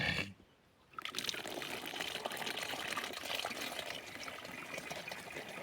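Vodka pours into a glass, a continuous close trickle and splash running for several seconds after a brief quiet pause.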